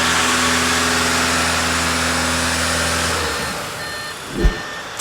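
An Audi with an 0AW CVT automatic gearbox runs at a steady, held engine speed during a transmission oil change. The loud, even hum lasts about three seconds, then drops away, followed by a single dull thump, with no talk.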